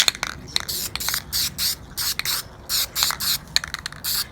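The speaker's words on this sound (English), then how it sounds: "I'm going to go over that with cast coat aluminum." Cast coat aluminum spray paint hisses onto hub caps in about a dozen short bursts, with light hand handling in the gaps between them, close and alone.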